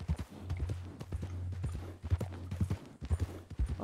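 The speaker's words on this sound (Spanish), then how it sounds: "Hay un caballo rojo observándonos justamente en la colina a la derecha" Horse hooves clip-clop in the western game RedM, a steady close rhythm of hollow knocking steps over a low humming drone, fairly quiet and with no talking.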